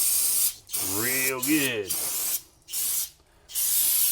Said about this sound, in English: you want to spray it down with brake cleaner